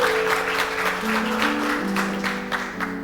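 A church congregation claps steadily throughout, a dense even wash of applause layered over sustained musical tones, with no break in the clapping.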